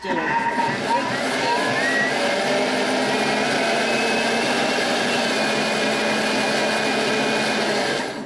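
Electric blender whirring steadily as it mixes courgettes into flan batter, a loud continuous motor whine held for several seconds with a brief pitch shift as it starts, then cutting off at the end.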